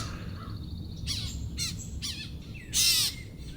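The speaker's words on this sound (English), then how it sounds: "Most of these noises seem like birds" Birds calling in the Everglades at morning, a few separate harsh crow-like caws in short bursts, the last one loudest, over a quiet low background.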